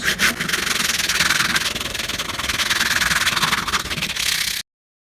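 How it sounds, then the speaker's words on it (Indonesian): Coarse 60-grit sandpaper rubs across hand-carved wood in a steady, close, raspy stroke that goes on for about four and a half seconds, then cuts off abruptly. "untuk amplas yang saya gunakan ini ukurannya 60 ya, 60 yang kasar biar cepat halus"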